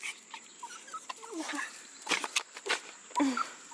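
A small puppy gives brief high whimpers and squeaks close by, mixed with excited shuffling, while people talk and coo over it in an upbeat, greeting tone.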